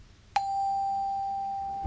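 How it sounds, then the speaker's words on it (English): Automatic door chime in an empty store at night: one sharp electronic ding that rings on as a steady, slowly fading tone for over a second, alone against a faint low hum. "The chime echoed through the empty store, sharp and unnatural against the hum of the flickering fluorescent lights."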